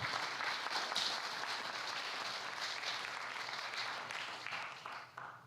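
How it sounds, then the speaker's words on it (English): An awards-night audience applauds in a dense, sustained wash of clapping that holds steady, then thins and fades near the end. "let's give those guys another round of applause for everything they do"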